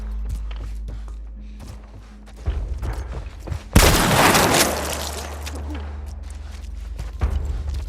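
A single loud shotgun blast rings out in a video game, followed by a rumbling tail over low background game sounds.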